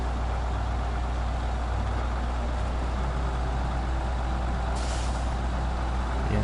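Truck engine in the SnowRunner video game labouring through deep snow, a steady loud mechanical drone throughout with a brief hiss like an air brake release near the end.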